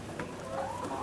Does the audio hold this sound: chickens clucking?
yes